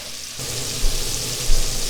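Food sizzles loudly in hot bacon fat in a pan for a snow stew, a dense crackling hiss that starts abruptly and keeps going close up, with no voices.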